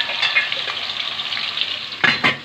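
Minced qeema cooking on a high flame gives a steady bright sizzle, and near the end two louder bursts of stirring or spattering break through it.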